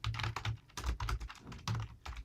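Quick bursts of keystrokes on a computer keyboard as code is typed, about a dozen close, crisp clicks in uneven clusters, quiet and alone.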